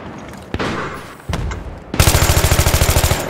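Gunfire in the video game Battlefield 3: a few loud single shots and booms, then a rapid automatic burst of evenly spaced rounds close by, with no talk over it.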